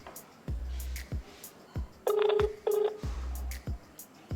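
A telephone number is dialed on a handset, producing a run of short keypad tones and beeps in an uneven rhythm, close and clear, with two longer tones in the middle.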